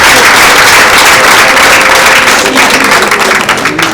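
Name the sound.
audience applause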